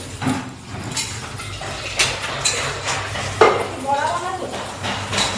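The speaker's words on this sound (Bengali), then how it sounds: "আমি চারটে মতো রসুন দিয়েছি দুটো কাঁচা লঙ্কা লবণ দিয়ে এটা পেস্ট করে দেবো" Garlic, green chillies and salt being ground into a paste, heard as close, uneven knocks, scrapes and rubbing strokes of a grinding tool, with a voice speaking over parts of it.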